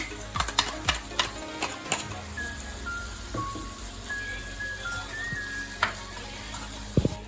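Spices frying in a pan for masala broccoli, a soft steady sizzle with scattered stirring clicks and taps from a spoon against the pan, quiet and close with no talking.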